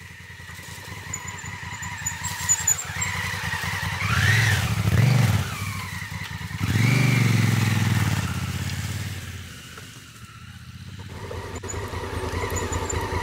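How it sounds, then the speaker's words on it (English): An adventure motorcycle on an off-road trail revs hard as its rear wheel spins out in loose dirt, two surging engine roars with a scrabbling skid, then a lower idle as the bike settles. "I'm going to add power, pop the clutch, get the back end to spin out, pull the clutch back in so I'm still in control"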